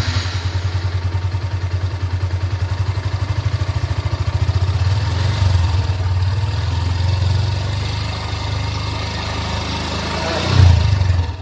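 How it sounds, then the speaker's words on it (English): A Honda CB Hornet 160R motorcycle with a side exhaust idles with a steady, close, pulsing low thrum, then the engine is blipped with a brief rise and a short rev near the end. "The bike has got a side exhaust. Let's hear the exhaust note."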